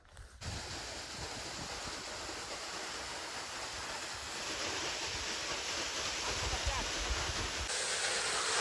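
Water gushes forcefully from a nine-plate pump motor in a steady, loud rushing stream that grows slightly stronger, close by.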